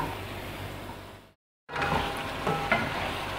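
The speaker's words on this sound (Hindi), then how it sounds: "इन तमाम चीज़ों को ऐड करने के बाद फिर हम इसको अच्छी तरह से एक दफ़ा भून लेंगे" Chicken qorma with spices and tomato paste frying in a pot, a dense continuous sizzle broken by a brief cut of silence, then resuming with light stirring clicks, no talking.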